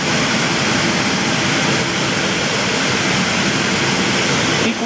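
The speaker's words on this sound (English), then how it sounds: "You'll hear that quite easily with the pink noise." Broadband pink noise plays steadily from dual center loudspeakers with comb filtering, a constant rushing hiss with no variation, cutting off abruptly at the end.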